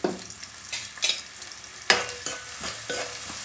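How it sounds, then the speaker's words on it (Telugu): Onion pieces fry in hot oil in a pan, a soft sizzle broken by several sharper stirring scrapes and bursts, close by with no talking. "ఉల్లిపాయ ముక్కలు వేసాను కదా ఇవి బాగా వేపుతాను అనమాట"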